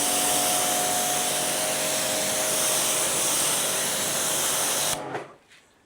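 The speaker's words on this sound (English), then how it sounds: "Let's actually just spray the glass as well." Quick detailer sprayed onto car glass in a steady, close hiss lasting about five seconds, then cutting off abruptly into near silence.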